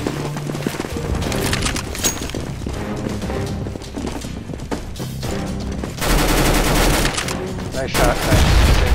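Gunfire in Counter-Strike: Global Offensive, a busy exchange of rapid shots and bursts of automatic fire with occasional louder booms, mixed with game sounds and brief voices.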